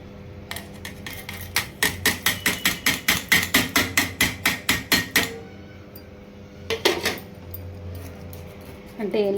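A spoon clinks quickly and evenly against a bowl while tempering is mixed into curry leaf chutney. A long run of close taps is followed, after a pause, by a few more.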